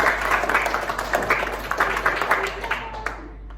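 Applause from a classroom of students during a teaching practice lesson, a steady dense patter of many hands clapping, fading out near the end, with some voices mixed in.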